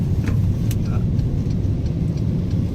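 Mercedes Vito 114 crew van accelerating from the cabin, a loud low engine drone held steady under full throttle, with a few faint clicks over the rumble.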